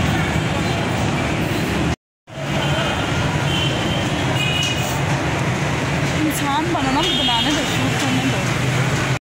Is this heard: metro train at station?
yes